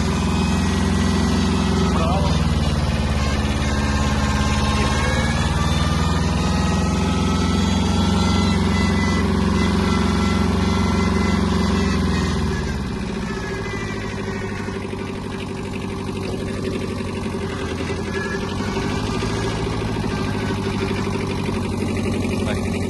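A Kubota B-10 Japanese mini tractor engine runs steadily while driving and turning, its pitch rising and falling before settling into a lower, quieter running note, with someone talking over it.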